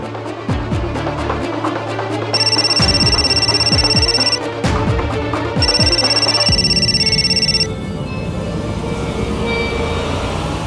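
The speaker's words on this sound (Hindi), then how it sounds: "तो फोन नहीं उठा रही है।" A phone ringing unanswered in a television drama: a bright electronic ringtone pulses in two long bursts over a dense, steady background score, loud and close, with no voices.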